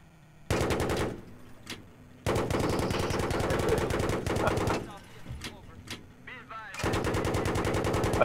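Loud, rapid bursts of automatic gunfire in a video game, several sustained volleys broken by short gaps and a few single shots, with players talking over the action.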